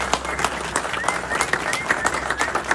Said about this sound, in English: Let's hear it for Luke Muff, everybody